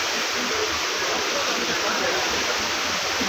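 Water flowing inside a shopping mall gives a steady broad rushing wash, like a fountain or cascade, with faint voices of people mixed into the background.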